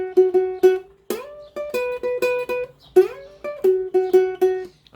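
Ukulele playing an intro riff, a lively sequence of plucked notes and strummed chords in a steady rhythm, close and clear with no voices.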